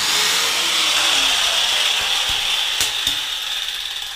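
A power tool cutting a car's front spoiler, a custom one-off part for a Suzuki Kei Sports Works replica, in a bathroom: a loud, continuous whining buzz with a few sharp clicks and knocks.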